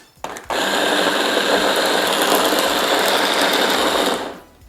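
A blender pulsing basil and other herbs for Jamaican green seasoning gives one loud, steady mechanical whir lasting about four seconds, up close, starting abruptly and cutting off at the end, with no talking.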